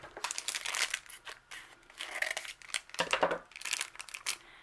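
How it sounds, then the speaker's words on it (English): Scissors snip through plastic packaging on a set of ballpoint pens, making close, quiet bursts of crinkling and crunching in short irregular clusters with brief pauses between them. "scissors."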